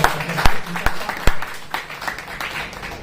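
Audience applause at a Hindi lecture event, a few sharp, loud isolated claps near the start giving way to thinner, scattered clapping that trails off, with no talk over it.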